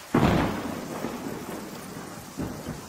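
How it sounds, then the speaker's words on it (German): Thunder and rain in a horror radio drama set in Arkham: a loud thunder crash opens over steady rainfall, rolling away into a continuous rain hiss, with a second, softer rumble near the end. "Es regnete aus pechschwarzen Wolken und Donner ließ die Erde beben."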